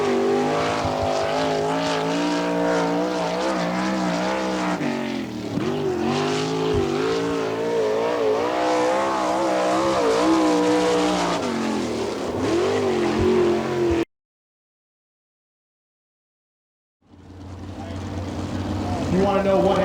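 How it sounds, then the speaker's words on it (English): Sprint-style race car number 21 on a qualifying lap at a dirt oval in Attica, Ohio, engine roaring loud and continuous with pitch swells, mixed with commentary, then cutting to silence before a sustained engine drone returns. "From Bucyrus in car number 21, the Tyner's mobile home sponsored machine gets his qualifying effort away."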